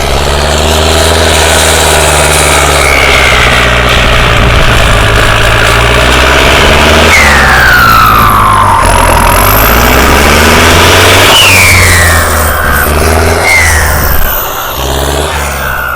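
A Thai-registered Isuzu MU-X SUV on red dealer plates revs and accelerates hard, its loud, steady engine roar sweeping upward in pitch as it pulls away, with no talking.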